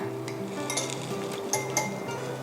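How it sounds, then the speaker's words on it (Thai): A spoon stirs dipping sauce together with chili sauce in a bowl, giving soft scraping and a few sharp clinks against the dish, quiet and close, over a faint steady background hum. "เราเทลงบนภาชนะนะคะ เพื่อจะทำการผสมกับซอสพริกค่ะ"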